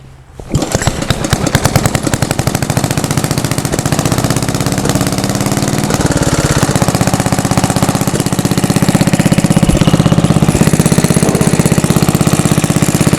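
A 74-year-old Briggs and Stratton engine runs on a dyno, a loud, close, steady rapid chugging drone with a sharp start and an unbroken mechanical knock throughout, no voices.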